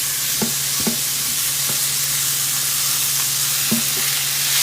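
Ground beef frying in a vintage cast iron skillet, a loud continuous sizzle with a few sharp utensil taps and scrapes.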